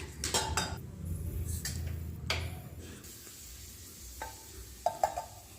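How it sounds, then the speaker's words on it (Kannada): Five or six dried red chillies roast in a pan over a low flame, with a soft sizzle under scraping and clinking strokes of a spatula against the metal, close and fairly quiet, with no voices. "ಇದಕ್ಕೆ ಮೊದಲಿಗೆ ನಾನು ಒಣಗಿದ ಮೆಣಸಿನ್ಕಾಯಿನ ಒಂದು ಐದರಿಂದ ಆರು ಹಾಕಿ ಲೋ ಫ್ಲೇಮಲ್ಲಿ ಹುರ್ಕೊಳ್ತಾ ಇದ್ದೀನಿ"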